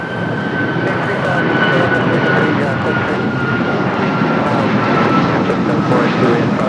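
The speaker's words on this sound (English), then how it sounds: "That's the flight to Reagan National taking off here on the south side." A jet airliner takes off from the south side at Los Angeles International Airport, a loud, sustained roar that fills the whole stretch, with voices faintly present beneath it.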